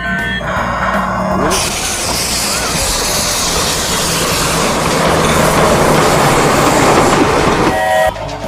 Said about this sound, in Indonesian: Kereta api teman-teman.